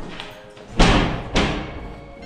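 A door in an abandoned, ruined former textile factory building slams twice, with two heavy, booming thuds about half a second apart, close by and echoing briefly in an otherwise quiet space.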